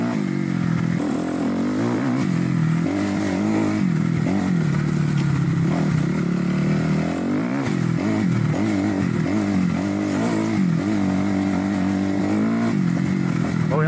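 A dirt bike ridden by a beginner through a forest roars loudly and steadily, its engine revving up and down with rattling and clatter throughout, close by and with no talk.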